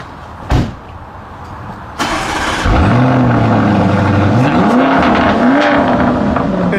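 A sharp click, then a Lamborghini engine fires up with a loud roar and settles into a deep, rumbling idle with a couple of rising revs.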